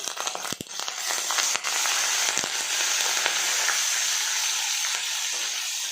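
Green chili paste and ginger-garlic paste hitting hot ghee, bursting into a loud, steady sizzle with crackling spatter that holds for several seconds after a few stirring knocks at the start.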